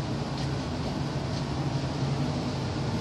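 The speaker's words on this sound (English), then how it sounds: "And you can still hear the blower fan on." Blower fan of a Tempstar SP80 gas furnace running, a steady, even broadband whoosh with a low hum, constant throughout and unbroken by speech.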